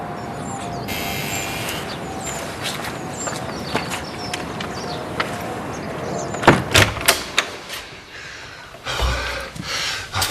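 A door is opened during a British TV drama scene. Several sharp clunks and knocks come close together, with thumps and a brief scrape, over a steady background hiss.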